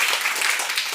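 An audience at a Hindi classroom quiz game claps briefly, a short burst of dense, loud applause.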